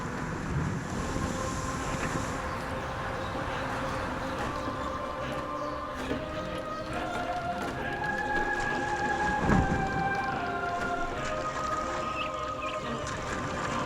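Stormy weather in the video game Dawn of Discovery, a steady wash of rain and wind with a low rumble of thunder swelling near the end, layered under game music and ambient tones.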